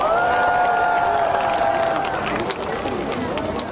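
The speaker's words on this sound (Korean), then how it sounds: "다시 한번 큰 박수 부탁드립니다." A crowd at the 2025 Yangsan Sapryang festival in Korea cheers and claps during an ambassador appointment ceremony: loud, continuous crowd noise with a sustained voice or tone rising over it at first, easing slightly toward the end.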